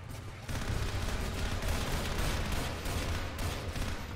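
Sustained gunfire in the zombie shooter Left 4 Dead 2 on a City 17 map, a dense, continuous barrage of rapid shots that starts abruptly after a quiet half second and holds steady and loud throughout.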